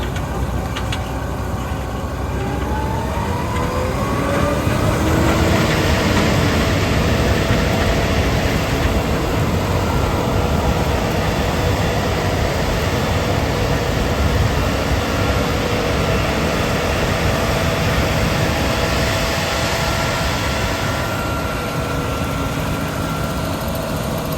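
A John Deere 7920 four-wheel drive tractor engine runs steadily from the cab, a loud continuous drone with a rising tone early on and no speech.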